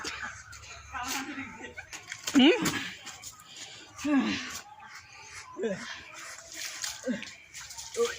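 Water runs steadily from a tap at an outdoor village cooking spot where duck is being prepared, a soft continuous wash with voices talking over it at moderate level.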